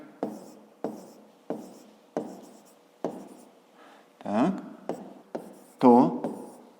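A pen writes a formula by hand on paper in a quiet room, making a steady series of short, crisp scratching strokes close by, with a couple of brief vocal sounds mixed in.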